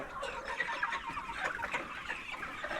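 A dense flock of free-range desi country chickens clucking continuously nearby on a poultry farm, many overlapping calls forming a busy, steady chatter with no speech.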